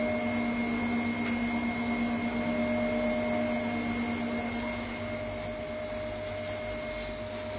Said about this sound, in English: Cooling unit turned on.